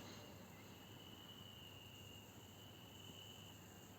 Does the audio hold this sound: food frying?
no